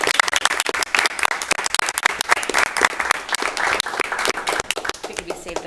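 An indoor room at a school committee meeting breaks into steady applause to welcome new school staff, many hands clapping densely throughout with some voices mixed in.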